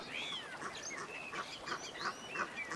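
An Egyptian goose calls over and over in a steady run of harsh, honking notes, close and clear above a low hiss of outdoor noise in the Serengeti, with no voices.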